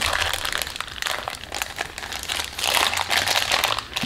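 Packaging plastic crinkles and crunches steadily as a parcel of car parts for a Honda Civic Type R is cut open and unwrapped, the rustling close and fairly loud throughout, with no talking.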